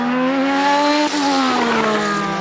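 A 2006 Formula 1 car with a V8 engine screams past at high revs, a loud, piercing, steady whine that shifts in pitch as it passes close by.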